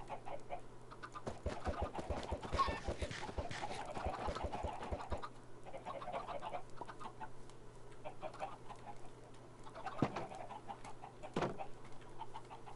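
Chickens cluck in a video game, a run of quick clucks at first and then scattered single calls and squawks, fairly faint against a steady low hum.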